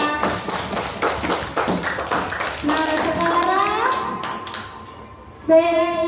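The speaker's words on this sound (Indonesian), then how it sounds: "Tepuk tangan untuk Selviana" Students in a classroom clap for a classmate, a dense patter of claps that thins out, followed by a teacher talking.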